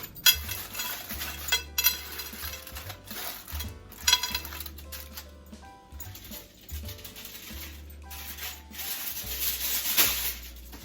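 Aluminum foil crinkles and scrapes in close, irregular rustling bursts as a ham is wrapped tightly, with light clinks and rubbing sounds mixed in and no voices.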